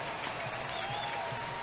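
A baseball stadium crowd applauds and cheers steadily after a two-out walk, a dense wash of clapping and voices spread across the stands at moderate distance.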